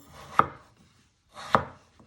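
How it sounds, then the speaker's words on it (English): A knife chopping through a starchy potato on a cutting board, two sharp, distinct cuts about a second apart, close and clear with quiet between them. "So you're chopping it in half."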